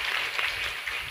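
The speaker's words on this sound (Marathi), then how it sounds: "यांच्यासाठी सुद्धा जोरदार टाळी वाजवायची" Audience applause for a singer at a Marathi kirtan for a Sant Savata Maharaj death-anniversary week: a dense, steady wash of clapping lasting about a second, close and unbroken with no pauses.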